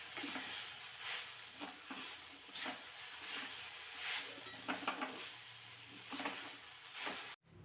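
Sabudana khichdi seasoned with red chili powder is stirred and tossed in a pan, giving a steady close sizzle broken by repeated spatula scrapes throughout, with no voices.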